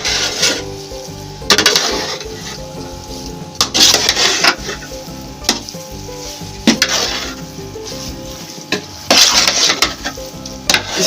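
Carrot halwa mixture with eggs and khoya being stirred in a large pot, a steady sizzle and frying hiss broken by repeated scraping strokes of a metal spoon against the pan at irregular intervals.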